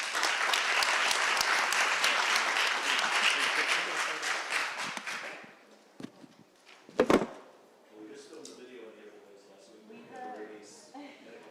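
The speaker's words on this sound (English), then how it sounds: "Big round of applause for them." A council meeting audience gives a dense round of applause that fades after about five seconds. A sharp knock follows, then people talk quietly.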